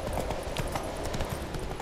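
Horse hooves clip-clop in The Witcher 3 as a mount is ridden through tight spaces, a steady rapid rhythm of close, moderately loud hoofbeats over a dense background.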